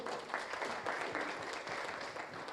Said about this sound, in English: Another hand of applause to Caroline.